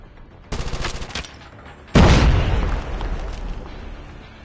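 A grenade blast in a Call of Duty firefight: a short loud burst of rapid gunfire, then a heavy booming explosion whose rumbling tail decays over a couple of seconds.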